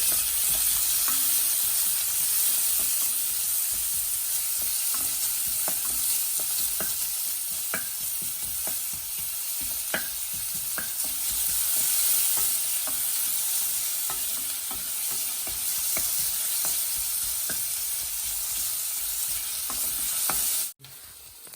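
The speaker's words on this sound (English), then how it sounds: "and garlic with green chilies. Let it saute a bit." Garlic and green chillies sauté in a pan for chilli chow mein, a constant close sizzle with frequent light spatula ticks and taps, steady throughout with no speech until a sudden cut at the end.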